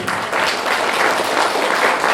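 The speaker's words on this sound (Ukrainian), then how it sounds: "Ваші оплески." Audience applause after a drama group's recital of Shevchenko poetry at a cultural house, a loud, continuous wash of many hands clapping without a break.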